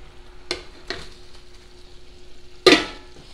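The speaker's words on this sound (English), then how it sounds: "now we're going to add our meatballs back in both pots" Meatballs are dropped and stirred into thickened, simmering beef-broth gravy in pots: three sharp splashy plops, the last loudest, over a faint bubbling background with no talk.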